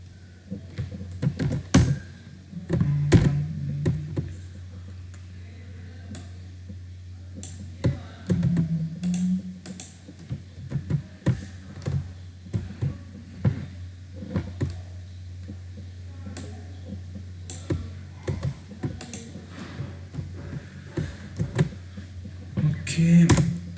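Typing on a computer keyboard, with bursts of close, crisp key clicks and a few sharper shortcut presses around a steady low hum, while someone talks at intervals.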